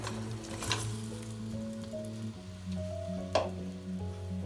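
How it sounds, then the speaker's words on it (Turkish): Steady sizzling of carrots, celery and potatoes sautéing in olive oil in a pot, soft and continuous, with a low hum underneath and a brief clatter near the end. "Patates ilave ediyorum ve biraz kavuruyorum."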